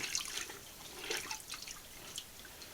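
Water dripping and trickling from canvas dyed with black walnut hulls, a faint run of small irregular drips and splashes close by.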